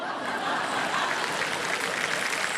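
Studio audience clapping on the quiz show Kaun Banega Crorepati, a dense, steady burst of applause at moderate loudness filling the whole moment without a pause.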